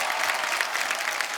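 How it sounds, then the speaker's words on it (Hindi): Audience applause breaking out on a comedy show stage, a dense, steady wash of many hands clapping at close range with no talk over it. "जोरदार तालियां हो जाएं।"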